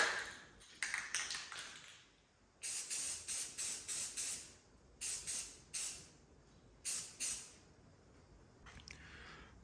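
Short bursts of spray paint hiss from an aerosol can onto a car, several quick puffs in a row with brief gaps, fairly close, with a few faint taps between.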